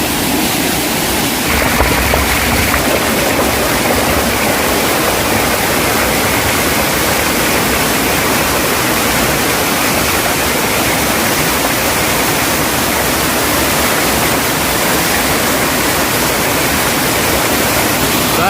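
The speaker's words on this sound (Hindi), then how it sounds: "गाइस तो देखिए वाटरफॉल, सिंदूर खोल वाटरफॉल" Sindur Khol waterfall near Gariyaband: a loud, continuous roar of falling and rushing water, dense and unbroken from start to finish.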